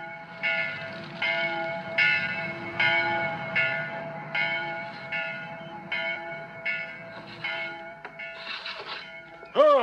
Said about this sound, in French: Tu entends? C'est la cloche de l'église.